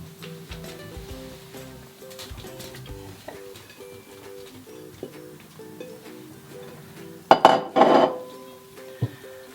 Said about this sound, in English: Stir them through the sauce